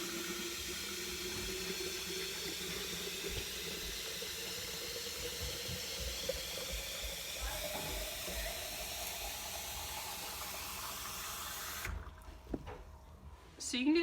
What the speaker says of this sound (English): now we simply bring this over to the tap.